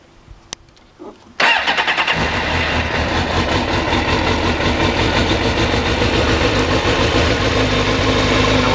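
A car with 4,500 miles on it, started from completely cold with a little choke: a few faint clicks, then the engine catches abruptly and settles into a loud, steady, close idle with a rapid even pulse.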